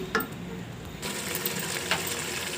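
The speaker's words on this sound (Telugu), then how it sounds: "ఇప్పుడు పెరుగుని కూడా వేసుకోండి ఇవి బాగా ఫ్రై అవ్వాలి" Mint, coriander and curd frying in a pan for mutton biryani give a soft, steady sizzle, with a few light clinks as the mix is stirred close by.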